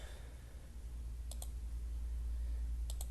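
A computer mouse clicks twice, then twice again a moment later, with crisp light clicks over a steady low hum.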